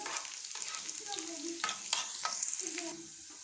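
A steady sizzle of chopped garlic and ginger frying and browning in hot oil, with occasional scrapes and stirs of a utensil in the pan; no talking.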